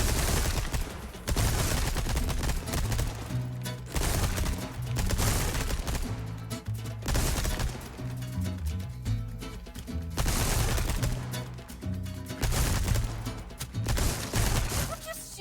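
Gunfire in Resident Evil 4 Remake: repeated bursts of shots and booms rolling through most of the stretch, loud and dense over a game soundtrack, with speech also mixed in.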